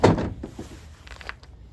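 A DECKED truck-bed toolbox drawer slides open with a loud initial thunk and rolling rumble, followed by a few softer knocks and clatters as contents shift, close and alone.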